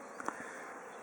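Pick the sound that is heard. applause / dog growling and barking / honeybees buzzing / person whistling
honeybees buzzing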